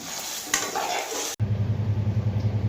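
Boiled taro and turmeric hitting hot oil in a pan with tomatoes and spices: a close hiss and stirring clatter, then after a brief cut a softer bubbling sizzle with a regular pulsing low rumble underneath.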